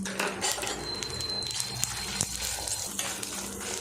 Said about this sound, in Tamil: வரமிளகாய் நல்லா பொரிஞ்சதுமே அஞ்சு பல்லு பூண்டு